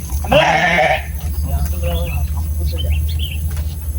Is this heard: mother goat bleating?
yes